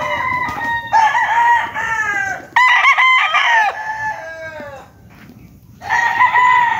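Stag roosters in a crowded cording area on a game-fowl farm crow one after another, with long overlapping cock-a-doodle-doo calls and some clucking. The calls are close and loud, with a short pause before a final crow.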